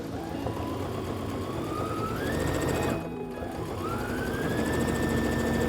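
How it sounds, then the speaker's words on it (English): A sewing machine stitches along a marked line in a home craft setting, a steady close whirring hum with the motor pitch rising and falling as speed changes, briefly pausing in the middle. "You're just gonna sew right on top of this line here."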